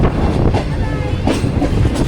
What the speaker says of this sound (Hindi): और पीछे की ट्रेन भी आ रही है